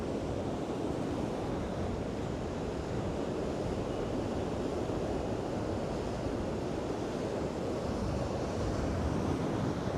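Storm Lilian's gale-driven high-tide waves smash against pier stilts, a loud, continuous roar of surf mixed with buffeting wind noise throughout, no voices.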